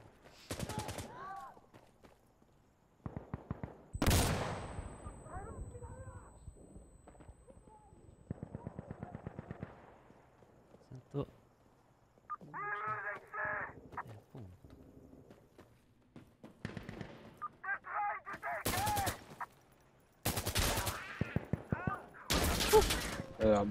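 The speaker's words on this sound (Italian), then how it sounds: "Perché spari troppo forte?" Gunfire in the shooter game Insurgency Sandstorm, with bursts and single shots scattered across a long stretch, some loud and close, others fainter, among other game sounds and occasional speech.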